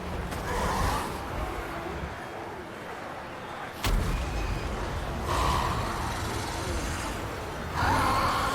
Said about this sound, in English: there goes another big shot into Lord Skrulk